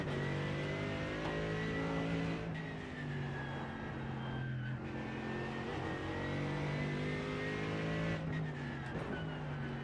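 Sustained howl of a GT3 race car engine in iRacing, revving and shifting through gears with steady harmonic whine, loud and continuous with brief dips between shifts, alone without talk.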